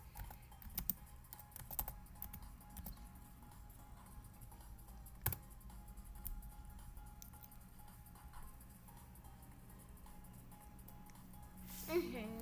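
Typing on a computer keyboard into the chat of the Roblox game Dress to Impress, faint quick key clicks in irregular bursts over a quiet room background, with a few louder taps.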